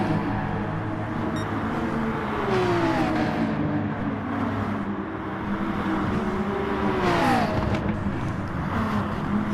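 Porsche Gr3 race car engine in Gran Turismo Sport during a league race, a steady loud drone with rising and falling pitch through gear changes, another car close by, no talk.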